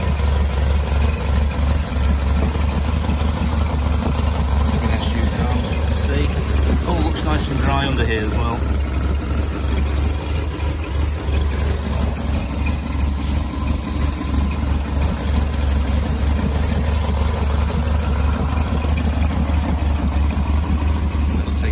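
A 1975 Rover 2200TC's twin-carburettor engine idles steadily and smoothly with the bonnet up, a constant low hum running the whole time beneath someone talking.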